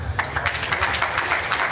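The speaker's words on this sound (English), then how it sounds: "they might have started to clap that one a bit early" Spectators at the World Indoor Bowls Championships clapping a shot, a scattered, moderately loud round of hand claps from a small indoor crowd, with no talk over it.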